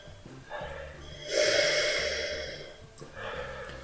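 A person sniffs a glass of Belgian triple beer, with two or three breathy inhalations, the longest in the middle, close to the microphone and fairly soft over a faint low background.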